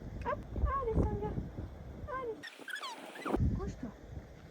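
A dog named Sandra whimpers and yips softly while being coaxed in through the front of a bicycle dog trailer, with people talking and encouraging it throughout.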